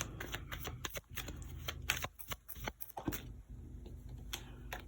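A deck of tarot cards gets shuffled up close in quick riffles and flutters, a dense run of soft papery flicks with no one talking.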